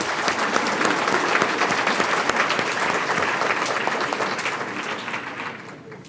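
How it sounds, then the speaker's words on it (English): Congregation in a United Church sanctuary giving a round of applause, full, steady clapping from many people, loud and sustained before tapering slightly at the end. "Give them a round of applause."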